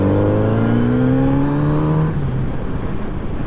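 A 2023 Kawasaki Z900RS motorcycle engine revs up loud and close, its rising pitch climbing steadily for about two seconds before dropping off into a rough, lower idle-like rumble.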